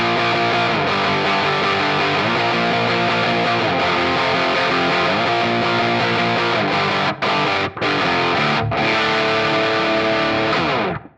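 An electric guitar plays chords through a Marshall-style overdrive pedal set to medium crunch, thick and sustained, with a few brief gaps before the final chord cuts off.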